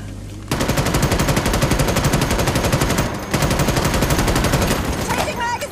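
Rapid automatic gunfire in the sci-fi shooter Starship Troopers Extermination, a loud continuous stream of shots with a short pause midway before the firing resumes.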